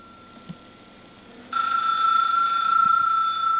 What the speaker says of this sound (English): I'd get up and go answer the phone